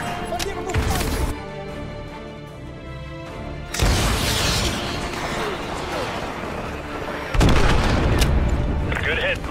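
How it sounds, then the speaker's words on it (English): AGM missile strikes in Call of Duty Modern Warfare Remastered, heavy booming explosions landing in bursts with rumbling debris between blasts, loud and close. "AGM missile is online."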